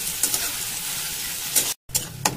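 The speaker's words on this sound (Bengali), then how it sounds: "এই দেখো পেঁয়াজটা ভাজা হয়ে গিয়েছে, আর বেশি ভাজবো না আমি" Chopped onion frying in oil in a pan for a Bengali mutton curry, a soft continuous sizzle with a few light stirring clicks, heard up close with no talking.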